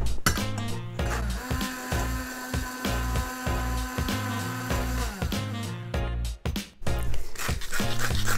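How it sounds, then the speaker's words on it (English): A hand blender whirs steadily close by in a loud, even motor hum while blending vegan mayonnaise, pulsing slightly and dipping briefly near the end. "we're just going to give that a whiz with my hand blender"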